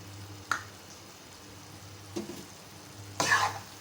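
Masala bhindi with onion, okra cooking in a pan, stirred in three brief scraping strokes spaced over a few seconds, quiet and close, over a faint low background hum.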